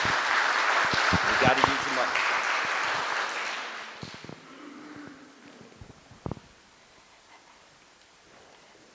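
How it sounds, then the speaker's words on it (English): A church audience gives a round of applause at a social service forum, dense clapping loud for about four seconds before fading out, with a voice speaking over it. "let's give Melissa a round of applause."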